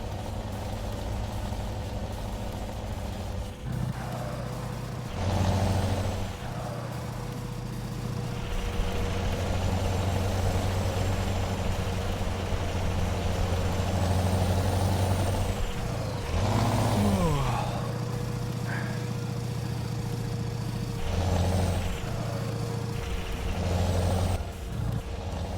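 A Scania T cab truck in Euro Truck Simulator 2 rumbles steadily at close range, a low engine drone holding throughout with sharp air-brake hisses and pitch shifts as it works, no talking.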